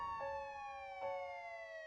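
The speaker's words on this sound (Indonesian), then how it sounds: "sirine ambulan pun terdengar dan seakan mendekat ke arah mereka" An ambulance siren sound effect, faint and distant, its steady tone stepping down in pitch in a repeating wail cycle with no talking.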